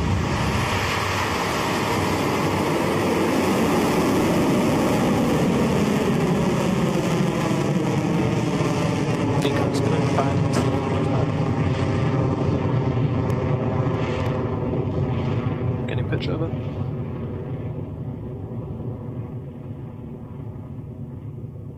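A Rocket Lab Electron rocket lifts off with a loud, sustained roaring rumble whose pitch slowly shifts as it climbs away, gradually fading over about twenty seconds.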